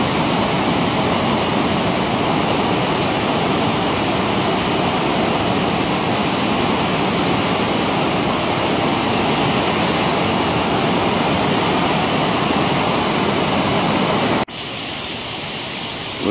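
A river in Beloretsk in the Southern Urals, Bashkortostan, flows beside an old factory building and a small bridge. Its dense, steady roar of rushing water fills the air at close range without a break, then drops sharply in level near the end.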